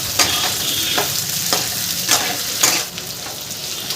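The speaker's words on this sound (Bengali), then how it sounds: "কুমড়ো আলুটা পেঁয়াজের সাথে একটু ভাজা ভাজা করে নেব" Pumpkin and potato fry with onion in a pan, a loud continuous sizzle broken by regular spatula strokes as the pieces are stirred and tossed; no voices.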